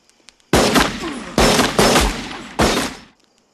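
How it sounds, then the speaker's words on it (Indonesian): Four loud, sharp blasts in quick succession, each with a ringing tail, like gunshots fired close by, with silence before and after. "Satu tembakan mengakhiri hidup Tommy"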